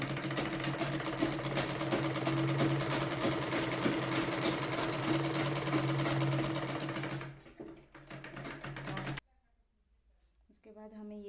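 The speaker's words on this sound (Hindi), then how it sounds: "ये पॉइंट से मशीन चालू करेंगे" A sewing machine runs steadily and close while stitching tucks into a blouse, with a fast regular chatter for about seven seconds before slowing and stopping, then a voice begins speaking.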